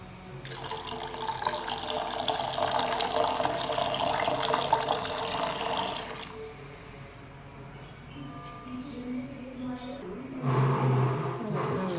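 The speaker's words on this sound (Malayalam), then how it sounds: "ഒരു ഗ്ലാസ് വെള്ളം ഒഴിച്ചു ഇനി ഒരു ഗ്ലാസ്സും കൂടെ ഒഴിക്കാം" A glass of water pours steadily into a pot of beetroot henna mix for several seconds, stops briefly, then a second glassful pours, with background clatter.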